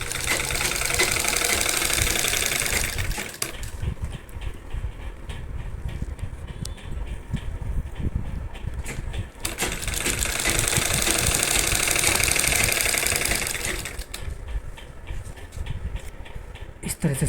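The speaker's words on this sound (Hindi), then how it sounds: "बेल्ट के किनारे किनारे सिलाई लगा लेंगे इस तरह से।" A sewing machine stitches along the edge of a saree belt in long running bursts of rapid mechanical whirring, pausing briefly between runs, close and steady.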